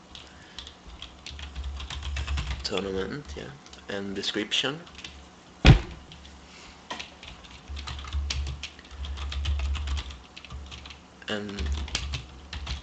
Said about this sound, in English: is typing a name for a tournament